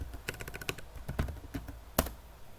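Rapid, uneven keystrokes on a computer keyboard as an SQL query is typed, close and fairly quiet, with a few sharper clacks standing out.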